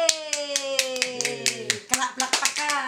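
Sharp hand claps repeat in a quick, uneven rhythm right beside a voice, which speaks and sings over them in a lively home setting.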